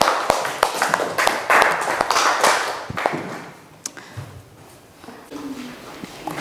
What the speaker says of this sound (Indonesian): kasih tepuk dulu semangat temannya